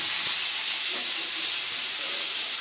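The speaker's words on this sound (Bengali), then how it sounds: "এবার আমি এর মধ্যে আদা কুচি দিয়ে দিলাম" Chopped ginger added to hot oil with fried garlic, giving a steady broadband sizzle and hiss that stays fairly loud and even throughout, with no voices.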